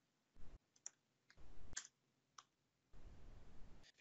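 Soft, crisp mouse clicks while signing in to an app, a few isolated quiet ticks spaced through a quiet stretch with brief bursts of background noise.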